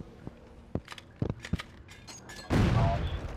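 Gunfire in a Halo match, with sharp single shots scattered through the opening seconds, then a loud sustained burst of fire and explosion that masks everything else.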